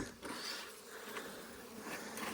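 Honey bees pour out of a cleared hive entrance during a late-winter check, a faint, steady buzzing drone of many wings close by with no talking.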